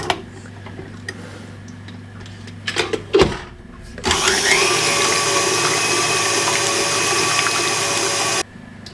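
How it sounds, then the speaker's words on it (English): An electric whisk beats pavlova mixture with a pinch of salt, starting with a few clicks and knocks before a steady, loud whirring hum runs for about four seconds and then cuts off. "Pinch of salt, and we're just going to whisk this."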